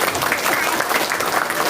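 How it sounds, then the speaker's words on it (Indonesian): Audience applause at an Indonesian religious lecture: a steady, dense wash of clapping from a crowd, loud and continuous throughout with no speech over it. "Tepuk tangan untuk Indonesia."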